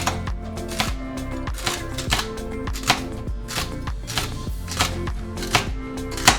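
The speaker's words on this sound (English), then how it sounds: "And then I'm just going to roughly chop" A knife chops roughly through celery and other vegetables in a steady, rapid rhythm of sharp, close knocks against a board, loud and alone.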